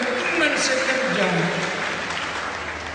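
A church congregation claps steadily with speech mixed in, fading slightly toward the end, indoors and fairly loud.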